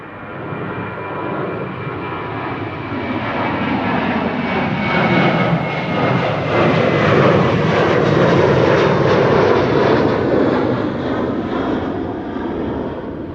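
A Ryanair jet takes off from runway 24 at Amsterdam Schiphol, its engine roar swelling loud and broadband over several seconds, peaking midway and holding strong before easing slightly, with no voices.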